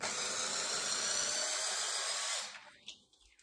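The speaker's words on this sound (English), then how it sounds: "let me get my handy dandy drill that's very violent." A power drill spins loose a wheel from an NKOK Dodge Hellcat 1/10-scale RC car. A loud, steady high-pitched whir runs for about two and a half seconds, then cuts off into quiet rattling.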